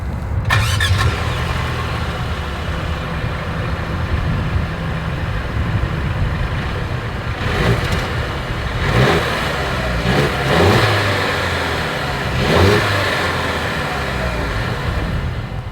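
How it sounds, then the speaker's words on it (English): 2023 Mercedes-Benz GLC 300 Coupe exhaust as the engine fires up with a sharp burst, settles into a steady idle, then gets several throttle blips that rise and fall, heard close and loud with no talking. "Here is that exhaust clip."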